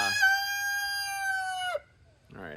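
A homestead rooster crows one long, loud, sustained call close by, ending abruptly, followed by a brief quieter cluck or call a moment later.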